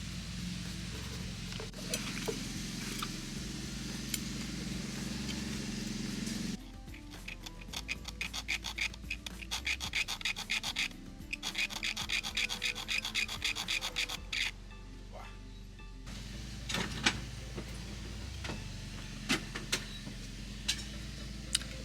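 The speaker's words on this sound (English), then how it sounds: "the way I've been getting those notches cut is just using the sharp edge of the file to file away at it until we have a notch" A hand file rasps a notch into a switch faceplate in close, steady strokes, with a continuous gritty scrape giving way to rapid short back-and-forth bursts and a few sharp ticks near the end.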